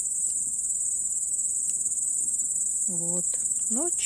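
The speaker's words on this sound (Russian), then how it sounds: "Стрекочут стрекачи. Сын сказал, что это кузнечики." Grasshoppers chirp at night beside a campfire, a steady high insect trill running throughout with a few short, brighter chirps near the end; someone speaks briefly under it.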